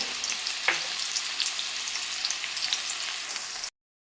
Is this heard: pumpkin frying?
yes